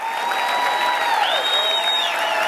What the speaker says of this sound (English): Keep your hands clapping for all the new family members joining this team